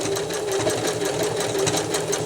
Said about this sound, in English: I want to sew just right next to it